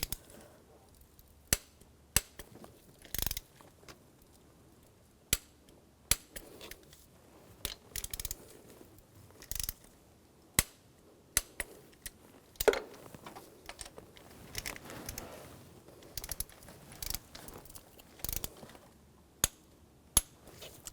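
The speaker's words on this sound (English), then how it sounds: "Now we're going to torque the nuts to 16 foot-pounds." Torque wrench tightening the nuts on a 2004-2009 Audi A4 Quattro 2.0L turbocharger exhaust manifold, with sharp isolated clicks and metallic ticks spaced irregularly over a quiet background.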